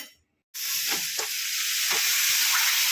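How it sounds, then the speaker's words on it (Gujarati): Cabbage and peas tempered in a hot pan, a sudden loud sizzle bursting in after a short silence and hissing on steadily with a few stirring scrapes. "મમ્મી શાક વઘારશે હવે"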